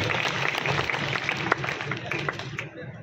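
A crowd at a Muslim mahapanchayat gives loud applause to welcome a speaker, dense sustained clapping that fades toward the end.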